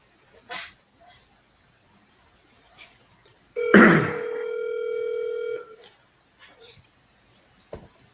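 A telephone dial tone sounds while a sales lead is being redialed, a steady electronic tone lasting about two seconds amid a quiet room with faint scattered clicks and small noises before and after.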